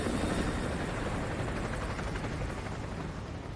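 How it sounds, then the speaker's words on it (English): An enemy helicopter flies in Modern Warfare 2 Remastered during an oil rig mission, a steady, moderately distant rotor rumble and wash that fades slightly toward the end, with no voices. "Enemy helo patrolling the perimeter."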